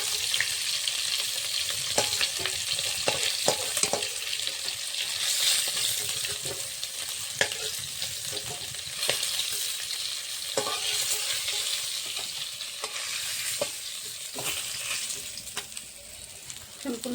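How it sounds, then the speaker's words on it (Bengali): Fish pieces frying in oil in a pan while a fish curry is cooked: a steady, close crackling sizzle with scattered sharp pops and light spatula clicks, no voices. "মাছগুলো উল্টানো হয়ে গেছে, আর একটা হয়ে গেলেই হয়ে যাবে মাছ ভাজা"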